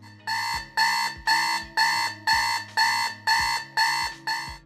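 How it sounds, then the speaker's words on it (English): A glowing red 1990s alarm clock radio sounds its alarm: a loud, steady electronic beeping in evenly spaced bursts, about nine in a row, each with a sharp attack and slight decay, heard alone. "Number 7, alarm clock radio."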